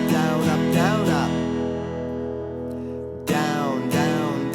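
A guitar strummed in a long strumming pattern on a single held chord, with bursts of repeated down and up strokes at the start and end and a sustained ringing chord between, close and loud with no talking.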